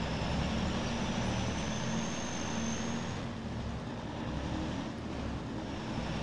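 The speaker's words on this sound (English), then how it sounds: "So I'm thinking we'll take the Mack wrecker here." A Mack wrecker truck idles in the video game Farming Simulator 22, a steady, broad diesel engine drone holding even throughout with no talk over it.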